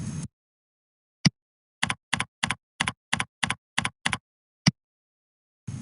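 Crisp, close computer-keyboard keystrokes come one at a time in a quick, even run of about a dozen taps, with silence between them and no talk.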